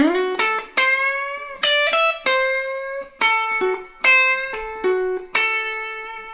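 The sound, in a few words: guitar playing minor pentatonic pattern 3 lick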